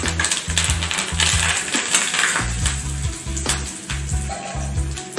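Chillies and curry leaves sizzling in hot ghee for ghee rice, a steady crackling fry with a rhythmic scraping or stirring against the pan, moderately close and fairly quiet.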